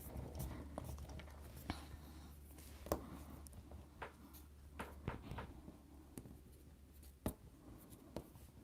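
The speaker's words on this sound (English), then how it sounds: "now I'm going to soft everything with my eraser" Eraser rubbing over watercolor paper while sketching a pumpkin, a soft close scratchy friction with irregular light strokes and a few sharper taps, all quiet.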